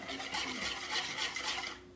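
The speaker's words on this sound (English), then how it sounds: "And you want to stir it again" Vanilla instant pudding being stirred in a bowl, a steady scraping, swishing rasp that continues without pause, close and fairly quiet with no voices.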